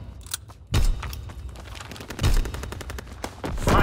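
Silenced M3 grease gun firing in a video game, a run of muffled rapid shots with several heavier thumping bursts, loud and close, with no talking.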